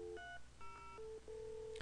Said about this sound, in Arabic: هقفل واتصل تاني